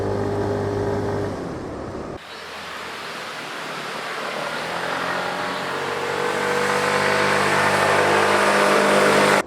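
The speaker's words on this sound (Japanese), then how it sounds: "今回の撮影で今初めてフルスロットルにしましたが、これフルスロットルですね。" A Yamaha Axis Z scooter's engine is held at full throttle on a steep mountain road. After a brief dip, a loud, steadily rising engine drone blends with rushing wind noise and builds to the end.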